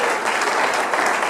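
Steady, dense applause from a youth conference audience fills the hall without pause, loud and sustained throughout.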